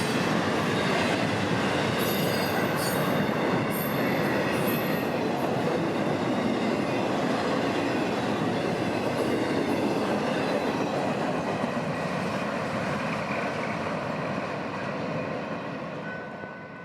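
A long FEC mixed freight train rolls past in South Florida, with a loud, steady rumble of wagons, rhythmic wheel clatter over rail joints and occasional high squeals, holding close and continuous before easing slightly at the end.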